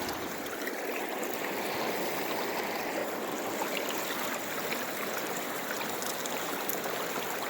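Water rushes steadily over the riffles of a prospecting sluice outdoors, a continuous close, broadband gushing and trickling with no pauses and no talk.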